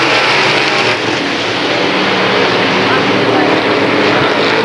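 Limited late model race cars roar around a short oval track in a dense, continuous engine drone, loud and steady throughout, with an announcer talking over the noise.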